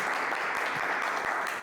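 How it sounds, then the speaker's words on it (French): Brief burst of audience applause on a French reaction stream, dense and fairly loud, continuous clapping that drops off abruptly at the end. "Applaudissez-le."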